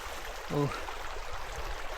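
A steady rush of stream water runs along the route to Thammarajupalle waterfalls in Kurnool, a broad, constant hiss interrupted by a short vocal sound near the start.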